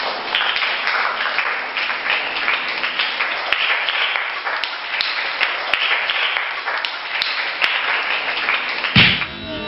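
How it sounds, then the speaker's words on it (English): Children clapping their hands together in a classroom, a steady dense patter of many small claps continuing for the whole stretch before stopping abruptly at the end. "Children, clap your hands for Kumar."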